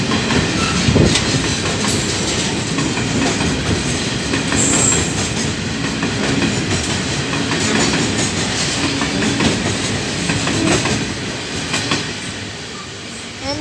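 A freight train led by locomotive NR60 with NR67 at the rear rolls steadily past close by, a continuous loud rumble of wagons with rhythmic clickety-clack and faint wheel squeal throughout.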